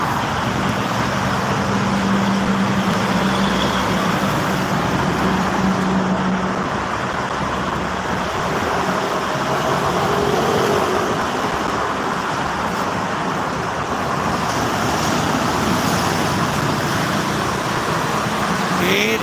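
Truck traffic on the Jakarta-Cikampek toll road near Karawang, a continuous loud roar of engines and tires with heavier vehicles swelling past, while a voice speaks faintly underneath.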